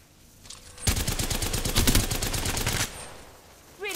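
Rapid automatic gunfire in the video game Apex Legends, a dense loud burst of shots lasting about two seconds after a brief quiet lead-in, then a faint tail and a short rising electronic tone.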